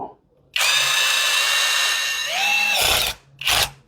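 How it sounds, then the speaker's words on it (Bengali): A GearUP cordless brushless hand drill whirs loudly as a wood bit is tightened in its chuck, one long high spin that dips in pitch, stops, then a brief second burst. "এটা বিট লাগাই আমরা কাঠের বিট লাগালাম এটা টাইট দেব"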